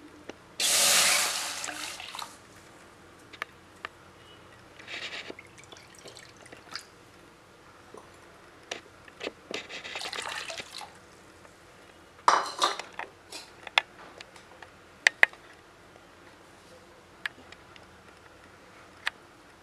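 Water is poured into a pot for rice flour kozhukattai dough in a short, loud splashing rush, followed by scattered clinks of metal utensils and faint drips in a quiet kitchen.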